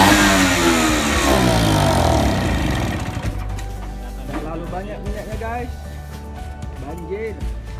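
A long-dormant Vespa Super 150 scooter engine, flooded with too much oil, runs and revs loudly up close, the rising and falling pitch sweeping through the first few seconds before settling into an uneven idle under talking.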